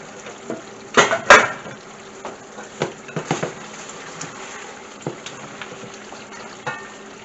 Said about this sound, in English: get all that garlic in there. Give this a stir.